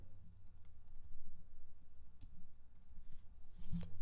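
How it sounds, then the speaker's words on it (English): Quiet keystrokes on a computer keyboard while entering names into a sports bracket design kit, faint scattered clicks over a low steady hum, no speech. "you just go in there and type that in."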